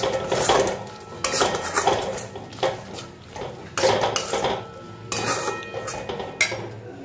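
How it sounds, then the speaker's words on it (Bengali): A spatula scrapes and clanks against a pan while corn, peas and capsicum are stir-fried with spices, in irregular bursts of metallic stirring over a faint sizzle, close up and with no talking. "এবার এইগুলো মশলার সঙ্গে সবার প্রথমে আর একটু কষিয়ে নেব"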